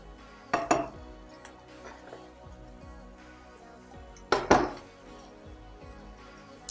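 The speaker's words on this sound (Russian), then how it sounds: "Хорошенько все перемешаем." Chicken, red onion and carrot are stirred in an ordinary frying pan, with two clear bursts of utensil scraping and clatter against the pan over a quiet sizzle.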